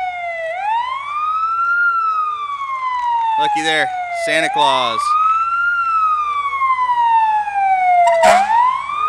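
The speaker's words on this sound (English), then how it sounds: "Sirens are going." A Waterloo Grant Township fire engine carrying Santa and Mrs. Claus in a street parade sounds its wailing siren, rising and falling loudly and close, with a brief horn blast near the end and someone speaking over it.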